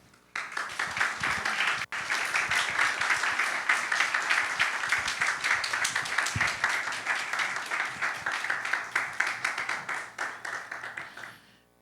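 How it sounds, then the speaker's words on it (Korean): A church youth-service congregation applauds a departing pastor, sustained dense clapping that swells quickly after a sharp start and holds steady for about ten seconds before tapering off, with no voices over it. "큰 박수로 와주시면 감사하겠습니다."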